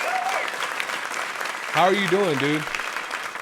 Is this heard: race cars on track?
no